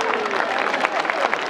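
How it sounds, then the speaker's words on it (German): Crowd applause for a choir at the opening of a long-table street festival in Cologne, a brief burst of many people clapping, fairly loud and continuous with some voices mixed in. "Und euer Applaus, bitteschön."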